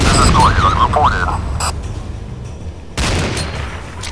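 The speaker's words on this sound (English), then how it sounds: "Do they not like hear all the gunfire going on?" Loud, continuous gunfire and booming explosions from the game C&C Renegade fill the clip, with warbling electronic tones early on and a sharp burst of fire near the end.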